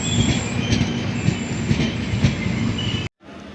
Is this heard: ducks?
no